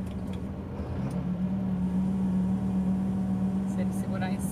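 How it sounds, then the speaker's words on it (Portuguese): A truck's engine brake holds it back on a steep mountain descent down the Serra do Garuva, a steady low droning hum with a strong constant tone, close and continuous, with faint speech-like noise over it. "Deixar só no freio motor."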